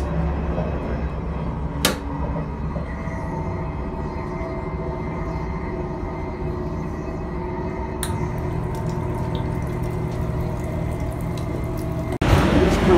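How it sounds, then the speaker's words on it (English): Toilet flushing and sink water running aboard a TGV inOui high-speed train, a continuous rushing wash over train rumble, with a sharp click near the end before the flow surges louder. "The flush works. And the sinks are in good and working order."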